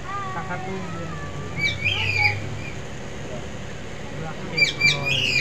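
At the bird area of Baluarte park in Vigan, Ilocos Sur, a few sharp squawks and chirps rise over steady outdoor background noise and distant voices.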